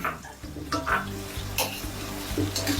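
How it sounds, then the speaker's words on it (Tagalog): Garlic and pork frying and stirred in a pan, a continuous sizzle broken by clanks and scrapes of a utensil against the metal, up close. "Lutuin natin ang ating bawang. Yun. Alright. Ating sahog. Pork."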